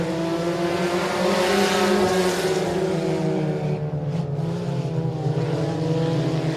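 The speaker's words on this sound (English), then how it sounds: "Cars all over the speedway, side by side from nose to tail." Dirt track race cars roar around a speedway in a heat race at a Louisiana state championship, a loud, continuous layered engine drone from a tightly packed field running side by side.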